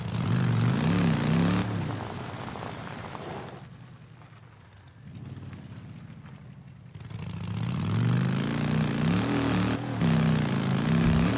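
A loud motorcycle engine revs in Days Gone, its throaty note climbing and falling, then dipping to a quieter idle midway before roaring back up.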